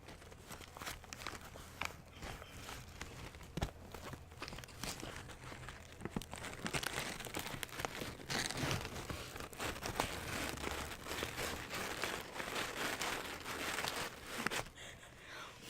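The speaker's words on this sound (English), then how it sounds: "playing a paper bag for you" Close, continuous crinkling and crunching of a paper bag, with uneven rustles and sharper crackles throughout, no talking.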